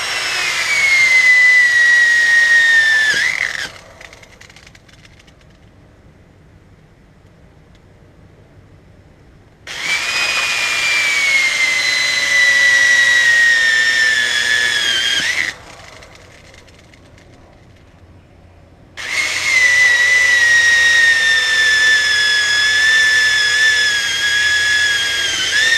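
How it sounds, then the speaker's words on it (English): Power drill with a 2.5-inch hole bit boring through material for an invertebrate enclosure: three loud, whining cutting passes of several seconds each, separated by quieter pauses. "You're going to want to drill outwards, so I'm going to go ahead and put 3 holes in this"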